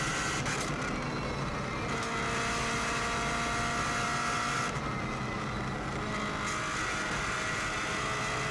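Onboard a Subaru WRX STI race car running the Isle of Man TT course through Quarry Bends: a loud, continuous engine roar with shifting pitch as it changes direction, close and unbroken.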